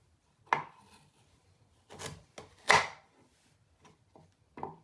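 A knife chops sweet potatoes on a board, giving about five sharp, separate thuds spaced irregularly, close by and clear against a quiet kitchen.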